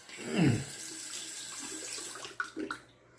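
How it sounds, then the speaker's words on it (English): Water runs from a tap to wet a Gillette TV safety razor before shaving, a steady broadband stream with a brief louder gush near the start and a few small splashes and clinks near the end. "I'm going to wet the razor."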